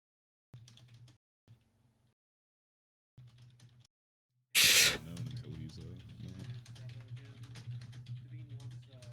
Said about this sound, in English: Damn, really typing there, Tron.